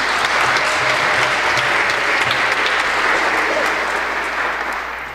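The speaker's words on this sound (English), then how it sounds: "Continue to round of applause for Father Deo Gratias." Sustained applause from a church congregation at Sunday Mass, a dense even patter of many hands clapping that holds steady for several seconds, then tapers slightly at the end.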